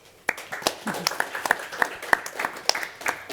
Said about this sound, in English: let us give another big applause to the audience and the speakers, please